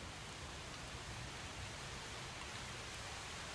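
Steady rain in Project Zomboid hisses evenly and without a break, a soft, constant wash of falling water with no voices.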